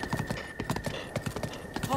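Hooves of a horse in a Zelda video game clip-clop in quick, even beats under a player's voice and game music.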